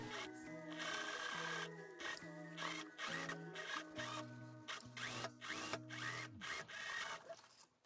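A sewing machine runs along the side seams of a garment in steady bursts, its motor humming with a rapid stitching chatter, stopping and restarting several times, close and fairly loud with no talking.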